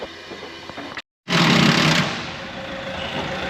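A captured nut spins on a John Deere 450G dozer. A close, loud, high mechanical whir starts abruptly after a brief silence and holds steady, easing slightly in level.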